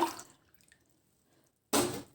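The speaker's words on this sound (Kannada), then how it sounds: "ಅದೇ ಲೋಟದ ಅಳತೆಯಲ್ಲಿ 2 ಕಪ್ಪಷ್ಟು ನೀರು ಹಾಕ್ಕೊಳ್ತಾ ಇದ್ದೀನಿ" Water poured from a cup onto rice flour in a cooking vessel, heard as a short splash at the start and a second brief, fuller pour near the end, with quiet gaps between.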